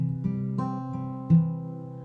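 A guitar chord is fingerpicked in a thumb, pointer, middle, ring pattern, four soft plucked notes ringing and overlapping one after another, close and clear with no talking.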